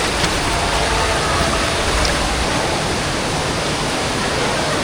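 A waterfall pours out of a cave in Bali, a dense, constant roar of rushing water filling the whole clip, loud and close with no voices.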